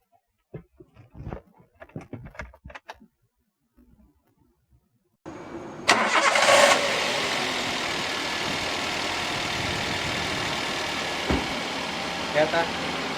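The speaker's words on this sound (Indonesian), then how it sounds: "Kita nyalain mesin, kita cek suara mesinnya." A used Toyota Avanza with accident and crash history cranks and starts its engine after a few quiet clicks and thumps, then settles into a steady, smooth idle that holds evenly to the end, close by.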